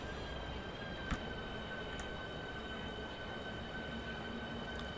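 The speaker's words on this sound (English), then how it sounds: "Let's listen to the traction motors." A steady low electric whine and rumble of a Southeastern high-speed train's traction motors at full power in Train Sim World 2, faint and continuous, with soft high tonal hums layered on top.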